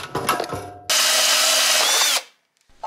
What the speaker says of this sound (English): I drilled a hole in a waterproof box to match the hole in the panel.